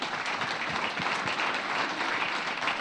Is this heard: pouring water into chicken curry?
no